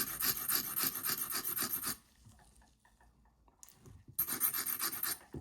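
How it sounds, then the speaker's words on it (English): A diamond file rasps along an edge in quick, steady strokes, close and bright, stopping for a couple of seconds of near silence before the rhythmic filing resumes. "That's a diamond file."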